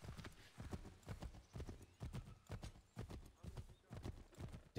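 Horse hooves clip-clop in a steady rhythm while riding in Assassin's Creed III, loud and close, with occasional faint whinnies and a voice talking over the hoofbeats.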